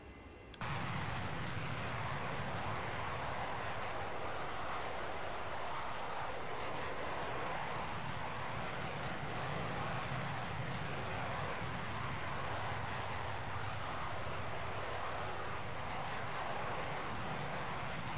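Steady, continuous jet engine roar of a MiG-21 taxiing in the Prepar3D flight simulator, a constant broadband drone with no talk.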